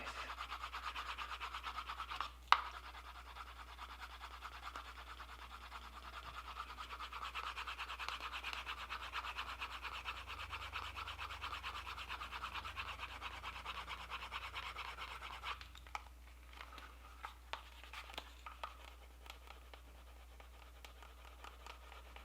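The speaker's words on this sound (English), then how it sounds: "This is sealing the end grain of the leather using this burnishing tool." A burnishing tool rubs back and forth against the end grain of a leather knife sheath, sealing it. The rubbing is a faint, steady, close-up swishing friction that stops briefly with a tap and then continues more unevenly.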